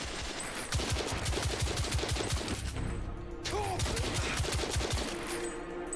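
Rapid rifle fire in The Order: 1886, set in Victorian London, crackles in a dense string of close shots with a short lull midway, sounding almost like automatic fire.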